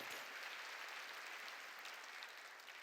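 A church congregation claps together at a New Year's Eve service, a soft, dense, steady patter of applause that holds evenly for a few seconds from a distance, with no voices.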